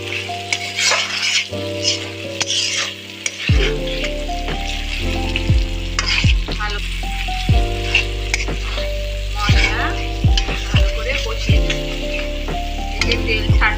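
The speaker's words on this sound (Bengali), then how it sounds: "ভালো করে কষিয়ে নিই।" Spices and katla fish sautéing in oil for a Bengali doi katla curry, a constant sizzle broken by repeated clinks and scrapes of a utensil against the pan, with a low background hum.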